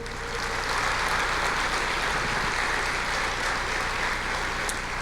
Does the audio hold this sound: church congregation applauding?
yes